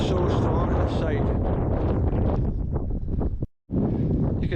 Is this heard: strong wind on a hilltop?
yes